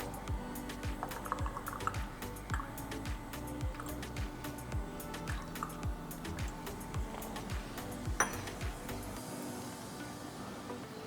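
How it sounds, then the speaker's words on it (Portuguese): Water rinses the inside of a laboratory crucible after an alkaline fusion of a solid sample, a soft near splashing and dripping over a steady mechanical hum with a regular ticking pulse, ending in quieter drips. "agora eu vou lavar o cadinho por dentro, que é onde estava a amostra"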